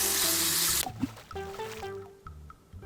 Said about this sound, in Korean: 소독이 끝나고 햇볕에 바싹 말려준 다음 흐르는 물로 헹궈서 사용하시면 돼요